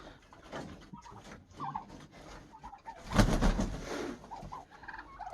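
Domestic turkeys coming out into a farmyard, with soft cooing and gobbling calls scattered through the stretch and a louder burst of calls midway. Other poultry are heard in the yard.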